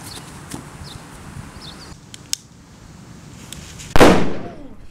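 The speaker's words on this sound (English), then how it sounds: "And bam, we have a bomb." A homemade practical-effects bomb goes off with one sudden loud bang that decays over about a second, after quiet, faint background noise and a few small clicks.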